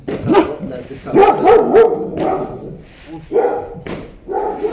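Dogs bark excitedly at fireworks, several loud yips and woofs in quick bursts that sound near, with brief whimpers in between.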